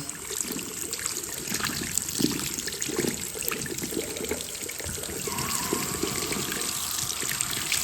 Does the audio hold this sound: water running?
yes